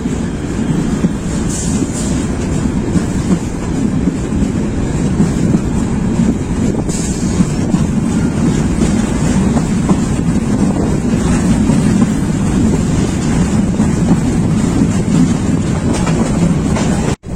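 The Sagarika commuter train on Bangladesh Railway's Chandpur to Chittagong line rumbles steadily from inside a carriage with old-style shovon seats, a constant roar of wheels and wind with no pauses or voices.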